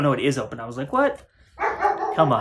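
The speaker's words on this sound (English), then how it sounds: "I'm sorry that the dog is barking." A dog barks sharply a few times indoors, partly buried under someone talking excitedly close to the mic.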